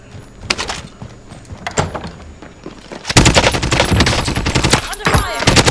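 Video game machine-gun fire, beginning as scattered bursts and shots, then breaking into a loud, dense sustained volley with rapid repeated cracks near the end.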